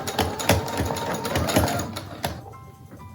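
A sewing machine runs in short bursts while reverse stitching a fabric mask with a filter pocket, close and fairly loud, stopping near the end.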